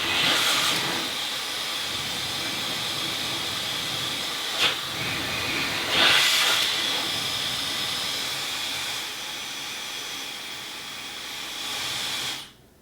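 A Dyson Supersonic Professional Edition hair dryer blows steadily, a loud, continuous airy hiss with a high whine. It runs for about twelve seconds with slight shifts in tone as the concentrator nozzle is put on or taken off, then cuts off.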